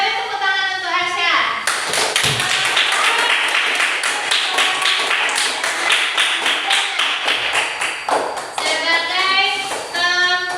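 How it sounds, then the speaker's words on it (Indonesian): Children in a classroom clap their hands together in a quick, loud, rhythmic burst, with a voice heard just before and after the clapping. "Beri tepuk tangan untuk Asya."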